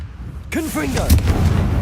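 A Confringo fire spell from the wizarding game Hogwarts Legacy goes off with a sharp blast followed by a booming crackle and rumble, with a voice shouting a spell just before and more combat noise after.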